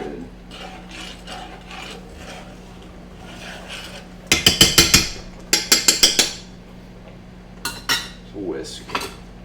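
A whisk scraping and clattering against a pot of polenta, fast rhythmic metallic rattling in two loud bursts, then softer scattered taps, close by with no talking over it.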